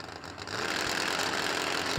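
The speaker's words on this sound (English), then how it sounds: "And the Buckshorn Racing Mustang in, set, and gone." A Mustang drag car from Buckshorn Racing launches off the start line at a no-delay drag race, its engine rising from a thin idle to a loud, sustained broadband roar that holds steady to the end.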